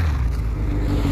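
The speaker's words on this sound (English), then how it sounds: "There go another motorcycle." A motorcycle passes by at a teachers' parade, a steady low engine drone holding close and loud throughout with no talk over it.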